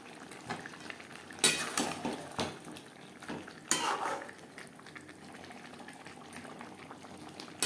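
Boiled potatoes drop into a pot of simmering chicken curry with a few loud clattering bumps and stirring scrapes over a quiet bubbling background; no one speaks.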